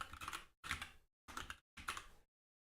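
Quiet, close computer keyboard typing comes in four short bursts of rapid key clicks separated by brief silences.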